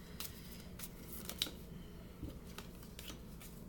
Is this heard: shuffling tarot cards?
yes